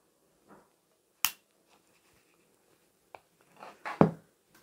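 A snap fastener on a handmade cutlery roll-up pouch is clamped shut, giving a few sharp, close clicks spaced apart, with faint handling rustles between them and no talking.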